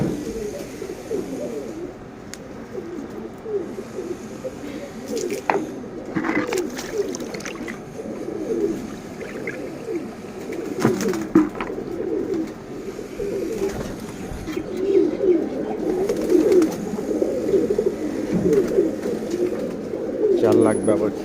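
Pigeons coo steadily in a loft on a hot day, a dense, continuous murmur of overlapping calls with occasional wing flaps and clatter nearby, no speech over it.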